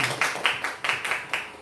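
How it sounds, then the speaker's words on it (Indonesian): Teachers of an elementary school clap together at a morning gathering in a short, loud burst of rhythmic claps, about eight in under two seconds. "tepuk tangan dulu untuk kita semua"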